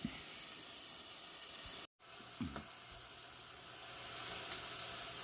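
Thin pork chops cooking on a grill that heats both sides at once, with a soft constant hiss and sizzle, a short break midway, a couple of faint knocks, and the hiss swelling a little toward the end.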